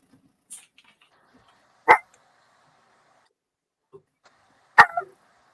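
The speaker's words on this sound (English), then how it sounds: "What are you barking at? Are you barking at Bob?" A dog gives two sharp, loud barks a few seconds apart, with a couple of fainter yips and small noises in the quiet between.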